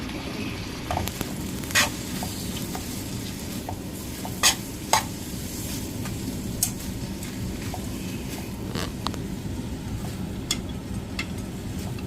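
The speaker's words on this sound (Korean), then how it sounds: "양파 반쪽 얄팍하게 썰어 놓고 들기름 넣고 살짝 볶다가 진미채 넣고 같이 이렇게 볶고 있습니다" Onion and dried squid strips stir-frying in perilla oil, with a steady close sizzle and a scattering of sharp utensil scrapes and clicks against the pan.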